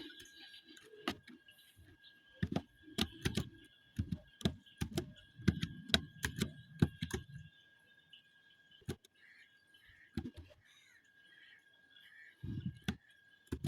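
Computer keyboard keys are pressed, including Shift plus Enter, as a series of close, crisp clicks and clacks, clustered rapidly at first, then sparse single taps after a pause, in a quiet room.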